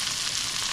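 Salisbury steaks browning in a frying pan give off a steady, bright sizzle, close and even, with no talking over it.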